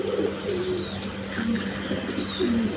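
Pigeons cooing in a loft where breeding pairs with eggs and chicks are kept, with low, repeated throaty coos rising and falling close by, continuous over a steady background murmur.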